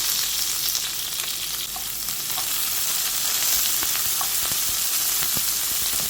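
Shallots, curry leaves and dried chillies frying in hot coconut oil with popping mustard seeds, a steady close sizzle with scattered crackles and pops throughout.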